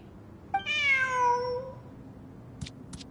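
A cat in the video game Genshin Impact gives a single clear, drawn-out meow against a quiet background, followed by two faint, brief clicks.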